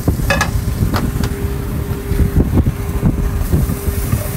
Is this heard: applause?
no